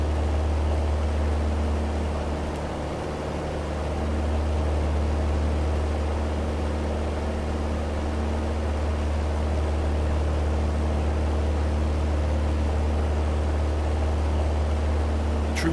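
Piper Cherokee 180 light aircraft engine droning steadily at cruise, a loud continuous hum with strong low tones and broad cabin noise, no voices.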